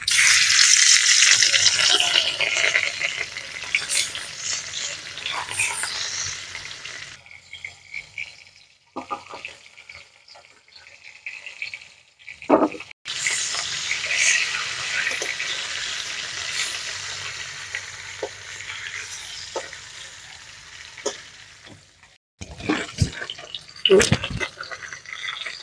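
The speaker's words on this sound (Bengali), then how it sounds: "মাছগুলোকে ভেজে নেব।" Rohu fish pieces rubbed with salt and turmeric fry in mustard oil in a hot kadai, with loud, close sizzling in two long bursts separated by a quieter lull and a few stirring knocks near the end.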